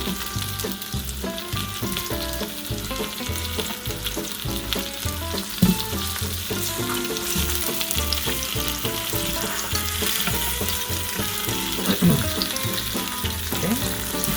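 Quartered onions fry in hot oil in a pot for miso ramen, a loud continuous sizzle with scattered crackles and occasional scraping stirs, with no voices.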